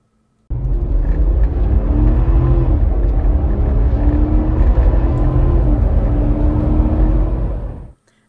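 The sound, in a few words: INEOS with TDI Performance tuning box accelerating from 25 to 100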